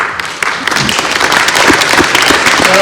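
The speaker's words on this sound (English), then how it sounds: "I'd like everyone to give them applause if they want." A forum audience bursts into loud, close applause, a thick continuous patter of many hands that builds slightly and holds steady throughout.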